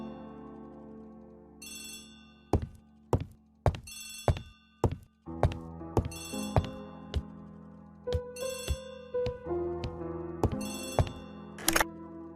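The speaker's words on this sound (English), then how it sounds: "Poirot, the telephone." Telephone ringing in the mystery game Agatha Christie: The ABC Murders, an old-fashioned bell ring sounding in repeated bursts among sharp clicks and knocks, clear and close with no talk.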